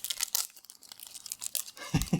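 A Pokémon XY Ancient Origins trading card booster pack torn open by hand, with quick close-up ripping and crinkling of the foil wrapper in short bursts and no talking.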